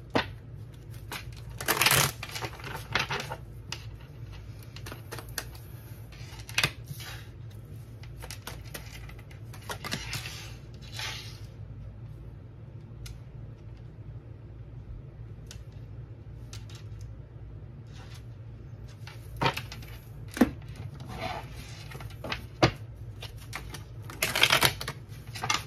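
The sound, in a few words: tarot cards being laid down on a table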